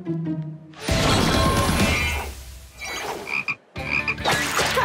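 Cartoon frogs give loud, squelchy croaks in a few bursts, mixed with splashy, crashing effects and short gaps of near silence.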